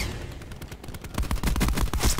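Machine gun firing in Call of Duty: Black Ops 4, a rapid continuous burst of loud gunshots that grows heavier and denser in the second half.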